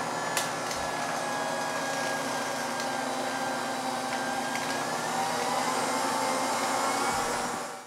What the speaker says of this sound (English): now we're just going to mix this until it's completely mixed